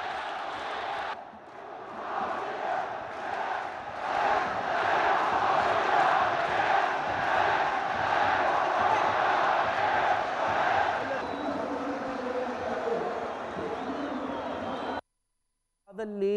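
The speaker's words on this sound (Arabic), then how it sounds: "اسمعوا هتافات الجمهور طيني جوعان" Football fans in a stadium chant loudly in unison for a long stretch, a dense rhythmic roar of massed voices that fades near the end, with faint talk underneath.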